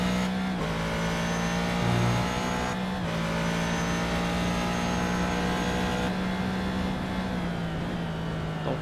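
Onboard engine of a Ford GT in iRacing at Interlagos, a loud steady tone climbing in pitch through the gears, with distinct shift drops around the first, third and sixth seconds.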